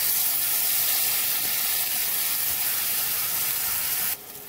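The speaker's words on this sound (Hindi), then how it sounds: "अब इसके तड़का लगा देते हैं।" Spices tempered in hot oil for brahmi chutney give a continuous bright sizzle, loud and close with no talking, that cuts off abruptly near the end.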